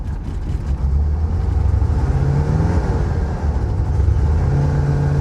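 A SwampVette engine idles roughly and struggles to stay running, a loud close low rumble with a wavering, uneven pitch that sags as it threatens to die.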